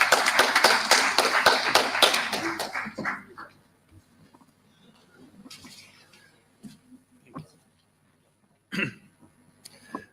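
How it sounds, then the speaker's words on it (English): Audience applause welcoming a speaker at the inaugural ceremony of a literature festival in Kathmandu: dense, loud clapping for about three seconds that then dies away into a quiet hall with scattered faint knocks and rustles. "Welcoming him with a warm round of applause."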